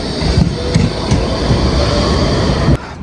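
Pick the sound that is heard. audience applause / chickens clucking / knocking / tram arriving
tram arriving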